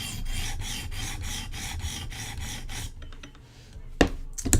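A Koenig Arius knife edge drawn across a sharpening stone in steady, rhythmic rasping strokes for about three seconds, followed by a few light scrapes and taps at close range.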